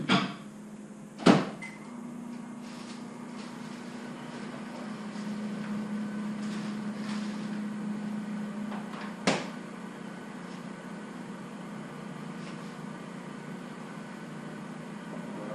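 A microwave oven runs steadily while defrosting Canadian bacon, a continuous low hum lasting the whole stretch, with a sharp door or latch clack near the start and another brief knock partway through.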